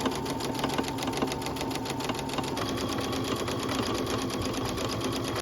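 Close, loud and continuous stitching from a sewing machine, with a rapid even mechanical rhythm, as the shoulder and side seams of a top are joined.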